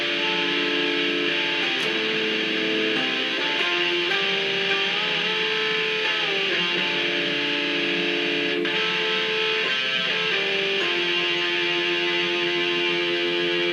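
Electric guitar run through a TC Quintessence Harmonizer pedal set to add harmonies a third and fifth above, a continuous lush layered melodic line with stacked voices, steady and upfront, no speech.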